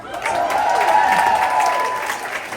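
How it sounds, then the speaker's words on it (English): Theater audience applauding, steady dense clapping from many hands that holds for a few seconds, fairly loud and close, with no talking over it. "I appreciate the support and the applause"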